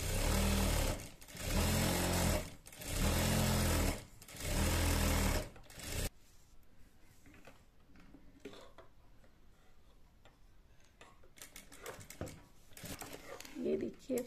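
A sewing machine stitches a plain seam on a child's salwar, running loud and close in three or four steady bursts with short pauses between them. It then stops, leaving faint handling noise and a woman's quiet speech.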